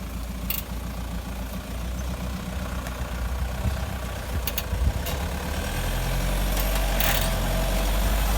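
A 4WD engine idles and rumbles low and steady while the vehicle parks on a forest track in Cobaw State Forest, Victoria, with faint clicks and clunks over the drone and the engine swelling slightly toward the end.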